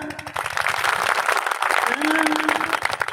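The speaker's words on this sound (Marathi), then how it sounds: "यांच्यासाठी जोरात टाळ्या वाजवा" A crowd at a kirtan devotional gathering claps loudly and steadily for about three seconds, with a voice faintly audible beneath the applause.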